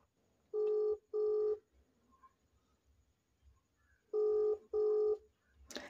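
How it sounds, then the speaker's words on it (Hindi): A WhatsApp video call ringing tone on a phone plays as two pairs of short, clean beeps, a long gap between the pairs, close and clear with no talking. "कॉल करता हूँ इसके पास वीडियो कॉल"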